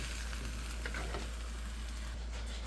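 Vegetables for lomo saltado sizzling and being stirred in a pan, a constant close frying hiss with a low background hum and no voices.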